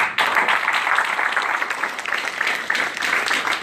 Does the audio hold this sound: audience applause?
yes